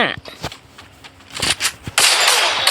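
Gunfire from the video game Free Fire: a few sharp single shots and clangs, then a dense, loud burst of rapid fire at the end.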